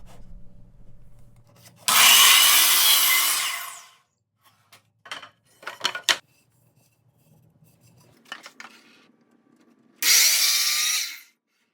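A saw rasps through a poplar board in two loud, sustained cuts a few seconds apart, with scattered knocks and handling clatter between them in a quiet workshop.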